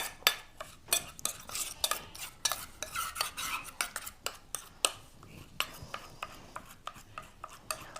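A spoon clinks and scrapes rhythmically against a bowl while tomato juice with a pinch of turmeric is stirred, a quick steady series of close metallic taps with soft swishing between them.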